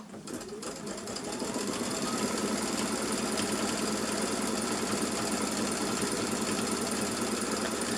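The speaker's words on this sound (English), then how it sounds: "When we press the stitch button, that will just stitch that all along." An embroidery sewing machine stitches a design, starting up after a brief click and then running as a fast, even, continuous mechanical whir, close and steady without speech.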